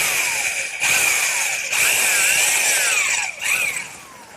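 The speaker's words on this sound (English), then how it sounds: "now to drill the hole, I'm just using a 15/16 inch speed bit" A power drill fitted with a 15/16 inch speed bit bores through a wooden 2x4 for a garden swing, its whining motor loud and close, surging and bogging as the bit bites in short bursts, with no one talking.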